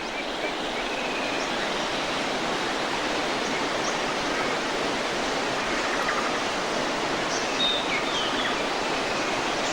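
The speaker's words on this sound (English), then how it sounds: "As the breeze stirs the millions of leaves, they make a sound like the murmuring of a great ocean." A constant soft hiss of breeze through dense Western Australian forest leaves, smooth and unbroken like distant surf, with faint bird calls now and then.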